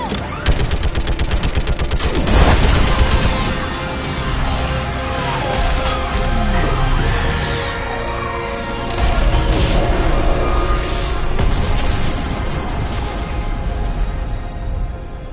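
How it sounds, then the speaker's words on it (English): Sustained heavy bombardment from an orbital strike in the Mass Effect game, a dense continuous roar of booming blasts and crashing impacts with layered gunfire, loud throughout with a big surge early on. "I need an orbital strike! We're clear! Fire at will!"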